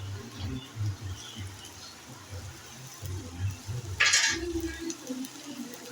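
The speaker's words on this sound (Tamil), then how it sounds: "வெங்காயம் நல்லா வதங்கியாச்சு" Onions sauté in a pan, giving a faint, steady sizzle with occasional stirring scrapes and one brighter clatter midway, under soft, low murmuring.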